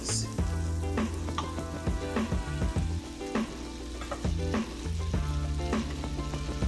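Four ounces of butter melting in a pan for a Connecticut lobster roll sauce, giving a steady close sizzle with soft crackling and no talking.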